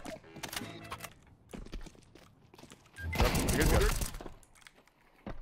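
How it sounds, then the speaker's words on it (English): Counter-Strike 2 gunfire rattles out in one dense, loud burst in the middle, with scattered single shots and clicks around it while players talk excitedly. "I shoot him in the face!"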